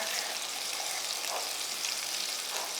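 Food frying in a pot, steady close hissing and bubbling crackle throughout with faint stirring scrapes underneath, no voices.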